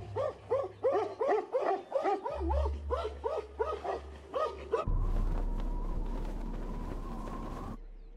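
Several stray dogs bark in a rapid run of repeated yips and bow-wows, fairly close, then give way to a steadier noisy outdoor wash with a faint whine over it.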